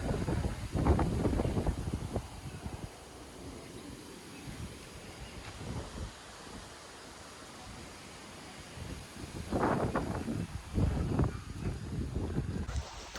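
Strong gusting wind during a sudden dust storm on a village road, roaring and buffeting the microphone in loud surges that ease and then build again, with no talking.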